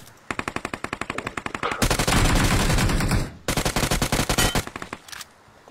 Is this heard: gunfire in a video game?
yes